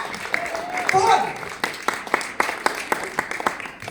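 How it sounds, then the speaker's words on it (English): Scattered audience clapping at a women's stand-up comedy show, a burst of claps followed by sharp separate hand claps at an uneven rhythm, with crowd voices mixed in. "Clap it up."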